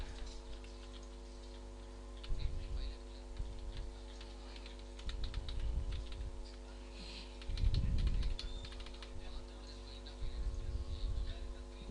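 Keys tapped on a computer keyboard while an email address and password are entered at a login screen, a quiet close pattering in short bursts over a steady low electrical hum.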